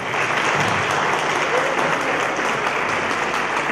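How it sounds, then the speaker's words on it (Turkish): A steady wash of audience applause fills a live evening event in Romania, sustained and even throughout with no pauses. "Alkışlar lütfen."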